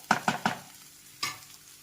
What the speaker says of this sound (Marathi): लिंबू आणि कोथिंबीर टाकून छान मिक्स करून घेऊया